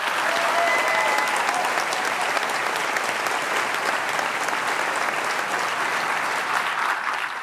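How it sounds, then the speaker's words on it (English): An audience at the Profile in Courage Award ceremony bursts into sustained, dense applause, many hands clapping loudly and evenly throughout with no talking over it. "I think she deserves another round of applause"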